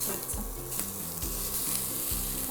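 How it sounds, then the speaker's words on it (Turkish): Minced meat sizzles on top of onions in a pan, a steady close frying hiss with a few faint clicks and no talking. "soğanların üzerine kıymayı ekliyorum"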